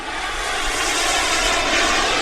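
Freewing Zeus 45NT RC sport jet turbine running steadily at one-third throttle, a loud, close, continuous roaring whine with no pauses.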